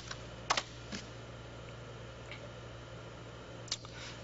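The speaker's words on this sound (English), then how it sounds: "I'll just type in some text." Typing on a computer keyboard: a few sparse, close key clicks, a quick double tap near the start and one more later, over a steady low hum with no talk.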